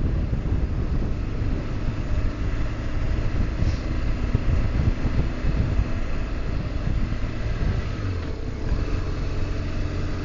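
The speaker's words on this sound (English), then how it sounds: "Incredible side wind." Strong side wind buffeting a motorcycle on a road trip, a constant loud low rumble and roar blended with engine drone throughout, with no talking.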